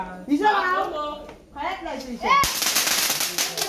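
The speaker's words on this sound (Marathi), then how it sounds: "तर आता हे फटाके वाजवतात" At a Ganesh immersion celebration in Konkan, someone talks, then a sharp firecracker bang sets off a dense crackling burst of small firecrackers that rattles on to the end.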